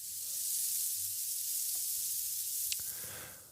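A steady sizzling hiss of something frying, broad and continuous throughout, with a couple of sharp crackle pops near the end; no voices.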